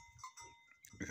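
Penned sheep and goats in the Caatinga, held to lick protein salt, give faint short bleats in a quiet outdoor setting.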